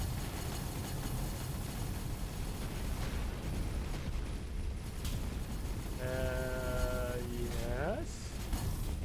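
Space combat in the game Avorion brings continuous rumbling weapon fire and explosions, with a rising whine of tones near the end, all sustained and dense throughout.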